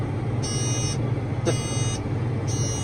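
Regular electronic beeps from farm equipment sidedressing corn repeat about once a second, three in a row, over a steady low engine rumble.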